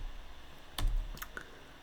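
Several quick clicks of keys on a computer keyboard as a password is typed, faint and close, a short cluster of keystrokes with a slightly louder press near the middle.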